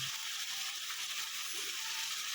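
Shrimp frying in a pan, a dense, steady sizzle of hot oil that fills the whole moment, close and even with no pauses.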